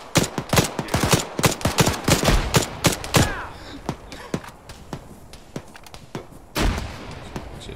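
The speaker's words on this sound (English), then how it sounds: "Gunshots are southwest." Rapid bursts of gunfire from the video game Arma 3, a run of sharp close shots in quick succession followed by scattered more distant reports and another burst near the end.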